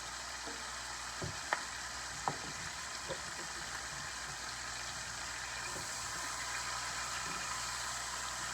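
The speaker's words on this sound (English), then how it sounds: "So I'm just gonna saute these a little so they get a little translucent." Chopped onions sautéing in a pan for a Southern oxtail dish, a steady close sizzle throughout with a few soft clicks of a utensil stirring in the first few seconds.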